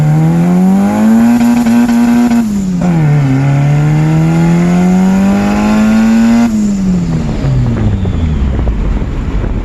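A Honda D-series car doing an anti-lag launch, its engine droning loudly at steady revs, dipping and rising, then roaring as tires spin and it pulls away, with heavy wind buffeting throughout.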